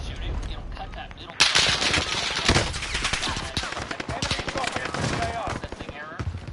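Rapid bursts of gunfire come from a PS4 shooter game, loud and continuous with dense automatic volleys. Some voice-like sound is mixed in.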